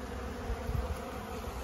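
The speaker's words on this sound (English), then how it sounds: "it's the bees that were left behind in the tree finally come out, and they're trying to find a new home" Honeybees left behind at a tree trap-out buzz close by in a steady, dense drone as they search for a new home.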